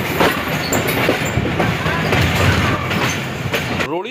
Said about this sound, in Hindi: ये बल खाती train platform number 1 Toba taxing railway station पर दाखिल हो रही है